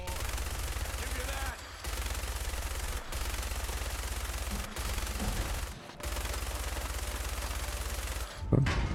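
A minigun fired in Fallout: a continuous rapid mechanical rattle of gunfire in long sustained bursts, broken by a few brief pauses, steady and fairly loud throughout.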